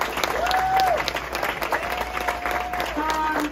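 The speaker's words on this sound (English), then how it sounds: "A big round of applause to all of you." Applause from a ballroom showcase audience at a family night performance, partly covered by a voice and whistles over the clapping, fairly close throughout.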